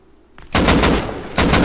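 AK rifle fire in the video game Rust, loud close bursts of rapid automatic shots after a brief quiet start, dense and sustained with a second burst near the end.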